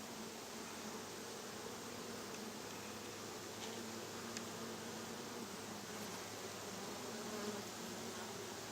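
Honey bees buzzing steadily around an open hive during an inspection, a dense continuous close hum with no pauses.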